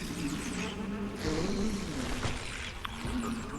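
Crickets chirp in the video game Sekiro, a dense, continuous insect buzz and trilling that fills the scene at a steady, moderate loudness.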